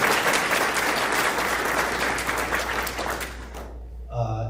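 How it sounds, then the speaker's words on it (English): Sustained audience applause at an estate planning client seminar in Santa Ana, a dense wash of many hands clapping at steady loudness that cuts off abruptly near the end, followed by a brief tonal sound. "One more round of applause for Victoria."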